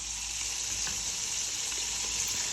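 Carp fish frying in hot oil gives a steady, close hiss and sizzle that runs evenly throughout with no talking.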